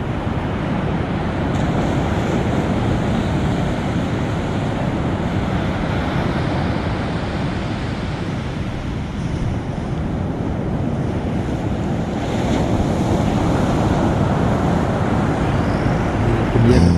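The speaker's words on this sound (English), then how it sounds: "The shore dump is ugly in front of them." Shore dump waves crashing onto a beach where boats are launched, a loud steady roar of surf and wind that surges again near the end.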